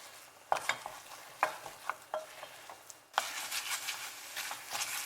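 A spoon stirs thick cooking dough in a saucepan, sounding as close, irregular scrapes and thuds over a soft sizzle that grows louder in the last couple of seconds, with no talk.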